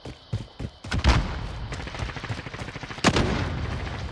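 Gunfire in the shooter Warzone: a cluster of sharp shots near the start, a heavy blast around the middle and another loud report near the end, over continuous game noise.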